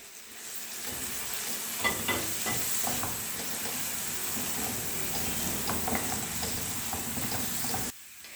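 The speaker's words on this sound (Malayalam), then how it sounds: "ഇതിലേക്ക് ടൊമാറ്റോ ഒരെണ്ണം അരിഞ്ഞത് ഇട്ട് കൊടുക്കുകയാണ്" Chopped tomato sautéing in a pan of oil for a Kerala-style egg curry, a continuous close sizzle broken by scraping stirs and clatter, ending abruptly.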